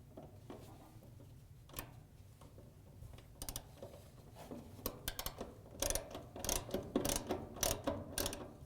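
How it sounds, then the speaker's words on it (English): A 5/16 socket on a ratchet wrench tightens a fastener on a Maytag dryer idler arm, giving bursts of quick ratcheting clicks that grow louder and denser toward the end over a low background hum. "grab your 5/16 socket with your wrench and tighten it down"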